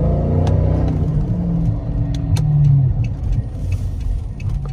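A stock exhaust rumbles from an AWD Dodge Charger R/T while it drives, a steady close engine drone with a few faint knocks over the road noise.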